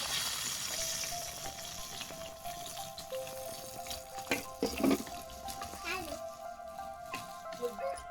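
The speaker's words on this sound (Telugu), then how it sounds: "ఉల్లిపాయ పచ్చిమిరపకాయ వేసి వేయించుకుందాం" Chopped onion and green chili fry in hot oil with a soft, crackling sizzle that comes and goes. A few sharper pops and clatters occur midway, and a voice talks over much of it.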